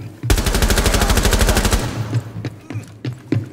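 Rainbow Six Siege automatic gunfire: a loud, sustained burst of rapid shots for about a second and a half, then fainter scattered shots and thuds in the game's background.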